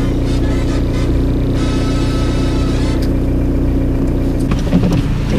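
A car driving along a road on the way to buy bread, giving a steady, close engine drone and road rumble that holds even throughout, with no talking.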